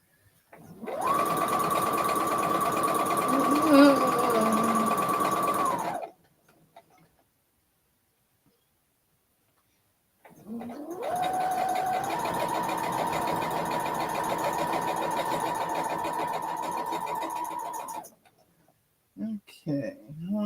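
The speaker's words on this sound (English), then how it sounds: "let me finish sewing this seam and then I'll show you" A sewing machine stitches a quilting seam in two long steady runs, close and even-paced with a humming motor and rapid ticking needle, split by a silent pause, with brief handling noises near the end.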